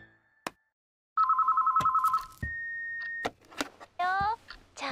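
A telephone ringtone sounds in repeated electronic warbling bursts, with beeps and clattering between them, during a call home to a pet cat; someone talks over parts of it.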